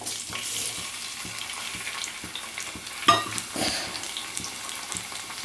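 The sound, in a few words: tomatoes and tamarind frying in sesame oil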